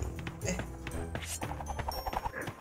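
Horse hooves clip-clop in the video game Sausage Man, a quick, steady run of taps with game music and effects layered underneath, with no talking.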